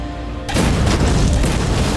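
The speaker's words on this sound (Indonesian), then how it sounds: "Huo Xin kemudian berlari dengan membawa bom di tangannya dengan tujuan meledakkan tank baja dari jarak sedekat mungkin" A bomb explodes and destroys a steel tank in a war film scene: after a brief lead-in, a sudden, very loud boom breaks out and rolls on as a dense, sustained roar.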